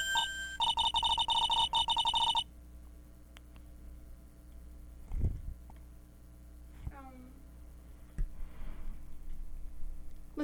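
A phone rings in the courtroom adventure game Phoenix Wright: Justice for All: a loud, bright electronic ring pulses for about two seconds at the start, then quieter game sounds and thumps follow.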